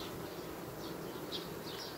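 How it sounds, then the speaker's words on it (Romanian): Honeybees buzz in a queenright hive, a steady dense drone of many wings close by, with brief louder swells as individual bees pass near. "aici avem albinele"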